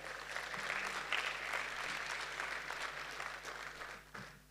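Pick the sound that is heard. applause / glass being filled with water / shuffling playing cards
applause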